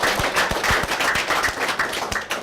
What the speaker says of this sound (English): But a round of applause for all of those people.